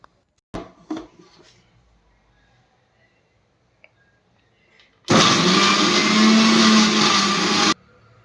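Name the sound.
mixer grinder blending muskmelon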